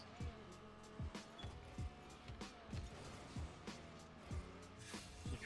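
The Batmobile's engine in a car video game drones steadily while tires squeal in repeated short, rhythmic bursts roughly every half second, with game noise layered over the car.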